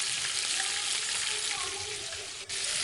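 Pangas fish with chopped chili fries in a pan, giving a dense, continuous, close sizzle of hot oil with a brief dip near the end and no voices.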